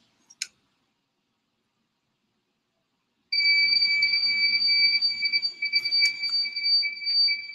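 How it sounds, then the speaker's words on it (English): An electronic buzzer in a robotics project, programmed to switch on for about 300 milliseconds and off for 100, gives one short chirp, then after a pause a loud, shrill, near tone that pulses almost continuously. "change the frequency of the buzzer by turning it on for about 300 milliseconds and turning it off for 100 milliseconds"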